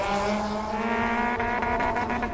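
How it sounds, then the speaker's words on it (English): A race car under 1050cc at a hill-climb festival with hairpins revs hard, its engine holding a high steady whine before it stutters in quick repeated cuts against the rev limiter, loud and close. "Oh, that is a rev limiter."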